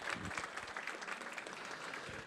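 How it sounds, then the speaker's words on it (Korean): An audience at a town hall meeting on fine dust in Anseong, South Korea, claps in steady, full applause that stays at one level throughout. "모두에게 박수 한번 크게 보내주시기 바랍니다."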